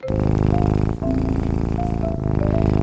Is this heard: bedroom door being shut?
no